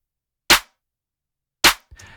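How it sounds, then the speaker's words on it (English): A snare drum soloed out of a music track gives two loud, sharp, isolated hits about a second apart, each with a quick decay, followed by a brief softer rattle at the end. "Now compare this with the snare that's in the actual track."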